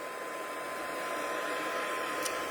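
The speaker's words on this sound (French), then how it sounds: "je vais accélérer avec le pistolet chauffant" Heat gun drying a lacquer effect on a stamped papercraft piece, a quiet, steady blowing hum with a faint whine running through, continuous and unbroken throughout.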